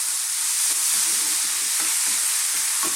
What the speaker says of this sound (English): on this very high heat, let's throw this around in the pan